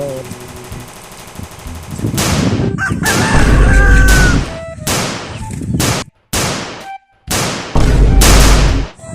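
Chickens cluck and a rooster crows in short loud bursts with gaps between them, mixed with voices and rough handling noise nearby.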